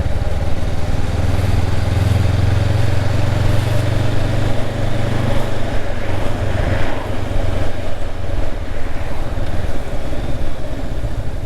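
A Honda Hornet 750 motorcycle with a quick shifter being ridden, its engine a steady loud drone with wind rush and a slight rise in pitch, recorded close up while moving.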